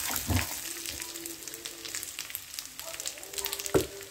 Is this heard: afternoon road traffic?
no